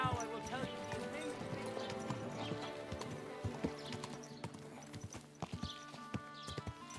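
Horse hooves clip-clop in Kingdom Come Deliverance 2, a steady walking rhythm of hollow knocks on hard ground, moderately close, with game music and ambience underneath.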